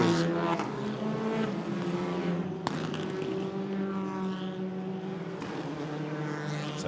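Touring race cars at the FIA Motorsport Games 2019 stream across the timing line, several engines whining and droning together at high revs, with sharp passes cutting through a sustained pack roar.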